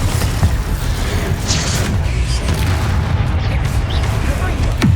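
In the video game Hogwarts Legacy, the Bombarda explosion spell booms loud and close, deep blasts with a rumbling tail over continuous game noise and brief voice bits.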